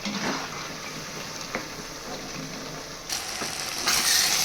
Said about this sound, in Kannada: ಈ ರೀತಿ ಚೆನ್ನಾಗಿ ಫ್ರೈ ಆಗಬೇಕು ಕ್ರಿಸ್ಪಿ ಕ್ರಿಸ್ಪಿ ಆಗಬೇಕು